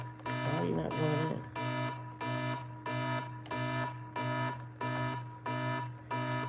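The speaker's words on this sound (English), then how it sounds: "the alarm will go off while I'm doing this" An alarm clock beeps in a steady repeating pattern of short bursts, loud and close, with a brief stretch of indistinct voice near the start.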